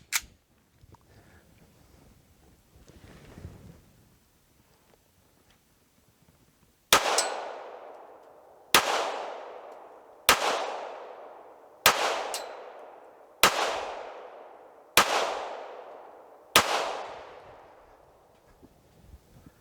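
Seven sharp reports from an FN Five-seveN pistol ring out at an even pace, roughly one and a half seconds apart. Each crack has a short echoing tail, and the shots follow a quiet stretch of faint background noise.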